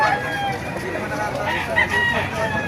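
A rooster crows among chickens at the Baliuag tyangge market, loud and close, mixed with a constant crowd murmur and voices talking nearby.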